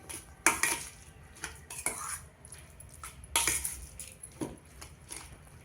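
Pumpkin paratha ingredients mixed in a bowl, with repeated scrapes and clinks of a spoon against the bowl in irregular bursts, close by and without talk.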